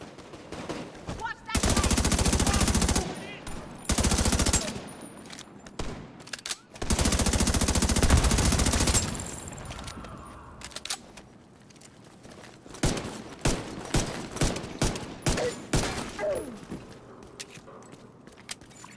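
Loud bursts of automatic gunfire from enemies in The Division 2, long sustained volleys early on giving way to scattered shorter shots and rapid single cracks, close and dominant with faint game ambience between.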